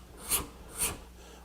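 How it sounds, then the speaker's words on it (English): Two separate scraping strokes from a steel card scraper drawn across a small wooden table leg, each a short, close, rasping swipe with a pause between. "then you could card scrape"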